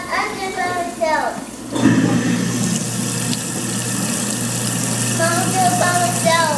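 Water runs from a household tap into a sink in a steady, close rush that carries through the whole stretch, with a voice and brief talk over it at times.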